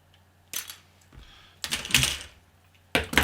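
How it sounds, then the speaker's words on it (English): Citadel sprue cutters snip plastic miniature parts off the sprue in a few sharp, close clicks separated by short pauses, with no voices. "we can use our loppers here. We can cut some of these off."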